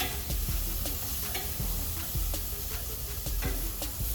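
Pork steaks fry in a Big Easy turkey fryer with a dense, constant sizzle and crackle, broken by a few sharp ticks and scrapes as the meat is handled, and nobody speaking.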